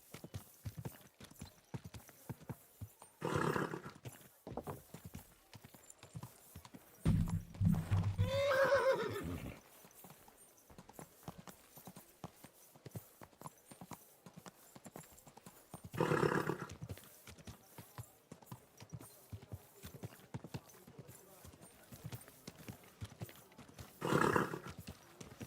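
A horse in the medieval video game Kingdom Come: Deliverance 2 trots with a steady clip-clop of hooves throughout. Several loud neighs and whinnies break through, one long and pitched around the middle, with no speech.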